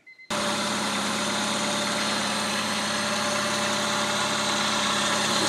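Small engine freshly fitted with new spark plugs and an air filter catches after a couple of brief cranks, then settles into a steady, loud, even idle with a low vibrating rumble that runs unbroken to the end.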